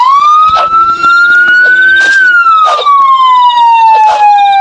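A police siren wails in the Hitch a Hike video game, a loud rising and falling electronic tone that sweeps up and then slowly down, with short bursts of other noise breaking through underneath.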